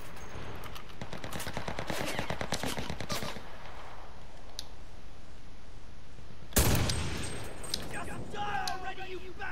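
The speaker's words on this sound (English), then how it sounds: "About the first person shotgun blast." Shotgun blast in the first-person game Cuisine Royale: one sharp, loud boom with a short ringing tail, preceded by rapid clicky gameplay noise and a continuous background bed.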